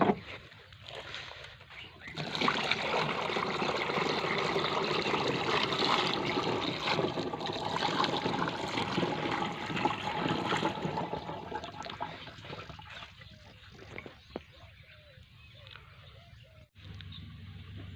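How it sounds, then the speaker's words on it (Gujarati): Water gushes steadily from a barrel into a sprayer pump tank for spraying a cumin field, a loud sustained pour lasting about ten seconds before fading into quieter trickles and handling noise. "જો જીરામાં બેરલમાં પાણી ભરીને"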